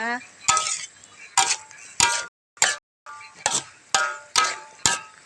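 A sweet and sour vegetable stir-fry is tossed in a pan with about ten rhythmic, sharp spatula strikes and scrapes under a faint sizzle. A brief voice sounds at the start.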